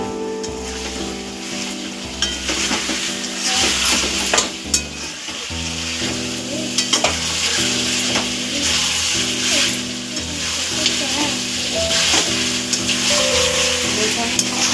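Chicken pieces fry with garlic paste while being stirred for chicken kosha, a loud continuous sizzle with repeated scraping and clinking of a spatula in the pan, under background music.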